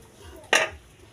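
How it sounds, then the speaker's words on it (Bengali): A metal lid set down on a cooking pot of potatoes, one short clattering clank standing out from a quiet room. "এবার আমরা আলুটা দিয়ে দিব। আলুটা দিয়ে নাড়াচাড়া দিয়ে ঢাকনা দিয়ে দেব।"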